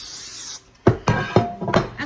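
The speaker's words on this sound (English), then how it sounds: "I've got a 9x13 dish and just cooking spray" Cooking spray hisses into a 9x13 baking dish in a short steady burst, followed by a few louder knocks and clatters of the dish being handled up close.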